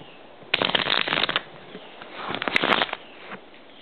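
Two quick bursts of a Bicycle Purple Peacock deck of playing cards being shuffled up close, a crisp riffling flutter followed by a brief pause between them.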